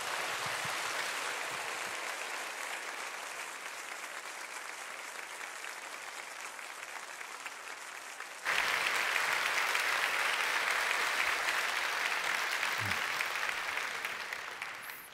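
A church congregation at a Sunday worship service applauds steadily to welcome a pastor to the pulpit for his farewell sermon, the clapping sustained and broad, swelling louder partway through and holding to the end.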